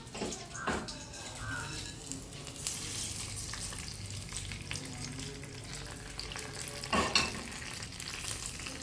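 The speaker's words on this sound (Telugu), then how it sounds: "కొన్ని కరివేపాకులు చూడండి ఒక రెండు ఎండుమిర్చి చూడండి కొంచెం ఫ్రై అయిపోతున్నాయి కదా" Curry leaves and a couple of dried red chillies frying in oil for a tempering, a soft continuous sizzle with occasional stirring scrapes and brief pops, quiet and close, a voice faintly present.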